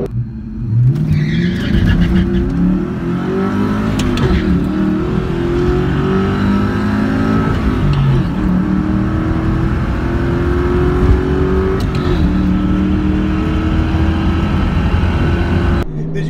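A Ford New Edge Mustang with short drag gears pulls hard off the line, its engine note climbing steadily through several gears with a loud, continuous roar and some tire noise, heard close and without talk.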